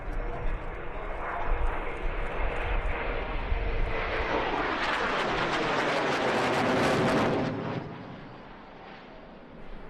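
A MiG-29UB two-seat jet fighter trainer, built in 1986 and powered by two Klimov RD-33 engines, roars past at an air show: a loud, rushing jet blast that swells, peaks and then drops away with a fading rumble.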